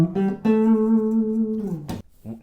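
Electric guitar solo phrase: a couple of short notes lead into a long sustained note with gentle vibrato, then a quick pick attack and a brief final note, played alone.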